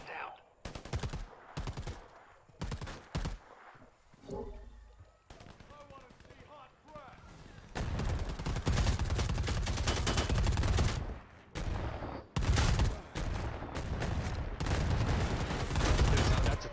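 Bursts of gunfire from the video game Predator: Hunting Grounds, with sharp single shots and rapid automatic volleys coming in uneven clusters and heavier sustained firing in the latter half.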